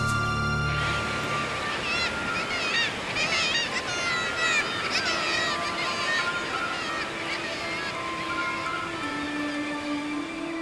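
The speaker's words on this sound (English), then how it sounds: "Cliffs towering over the Arctic seas are alive with nesting seabirds." A colony of nesting seabirds on towering Arctic sea cliffs fills the air with dense, overlapping honking and squawking calls that go on without a break.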